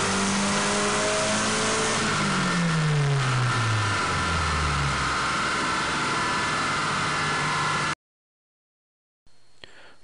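A turbocharged car fitted with an AEM Tru-Boost controller pulls hard in third gear at 12 to 13 PSI of boost, its loud engine note climbing steadily in pitch before cutting off abruptly, followed by a faint brief tail.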